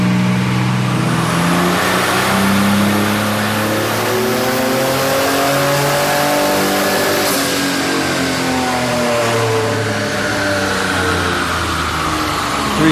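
A supercharged hot rod engine revs hard on a dyno, climbing steadily in pitch as it pulls toward 5,700 RPM. It stays loud, sustained and close, with no talk.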